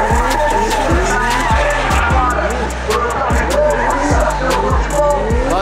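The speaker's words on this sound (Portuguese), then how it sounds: "Tá aquecendo os pneus." A drift car revs hard and warms its tires at a drift championship, with loud repeated engine surges and sustained tire squeal. Crowd noise and voices are audible underneath.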